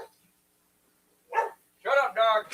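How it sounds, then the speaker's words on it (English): A dog gives a few short barks nearby, one quick bark followed by a pair of louder, slightly tonal barks in otherwise quiet surroundings. "Shut up, dog."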